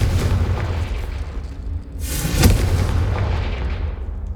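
A Confringo blast spell fired in Hogwarts Legacy, a loud booming explosion that swells around the middle, with a rumbling low burst and crackling tail fading out over a few seconds, no voices.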